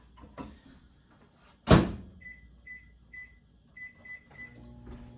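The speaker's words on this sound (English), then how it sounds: "I'm gonna pop it in my microwave for 15 minutes" A microwave door thumps shut, a quick series of electronic button beeps follows, and then a low hum starts as the oven begins running.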